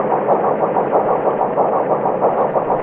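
A destroyer's engine heard on a submarine hydrophone in Silent Hunter 4: a steady, pulsing throb churning continuously, muffled and underwater-like, with a regular rhythmic beat and no talking.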